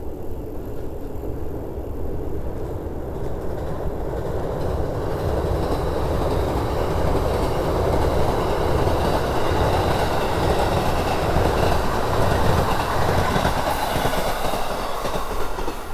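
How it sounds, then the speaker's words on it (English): A Chiyoda line train, also running as the Joban line, passes close by in a Japanese hometown, a loud steady rumble with clickety-clack wheel noise and faint squeal that holds for the whole stretch. "I'll stop here just a moment so you can see that train go by."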